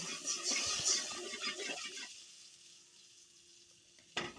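Spinach and shrimp sizzle and are stirred in a pan after cold water is added, with busy scraping and bubbling at first that settles into a faint low hum, ending in one sharp knock.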